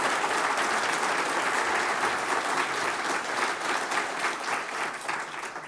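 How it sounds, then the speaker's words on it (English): A conference audience at an award session applauds the organisers, producing dense, sustained clapping from many hands that holds steady throughout with no talking over it. "So I'd like to get you all to give them a big round of applause and thank you."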